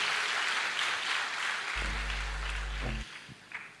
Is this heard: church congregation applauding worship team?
yes